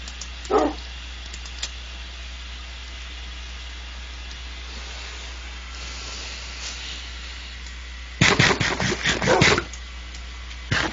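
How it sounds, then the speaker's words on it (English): A dog in Minecraft gives a short whimper, then a few seconds later a quick burst of several yips and barks, heard alone over a faint low hum. "That's one sad puppy."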